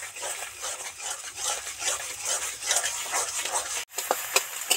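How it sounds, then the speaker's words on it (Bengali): Beaten egg hits hot oil in a pan and is stirred into small scrambled pieces, a steady close sizzle with scraping spatula strokes and one brief clatter near the end. "ফেটানো ডিমটা তেলের মধ্যে ছেড়ে দিচ্ছি। দেওয়ার সাথে সাথে ডিমটা ভালো করে নাড়তে থাকবো"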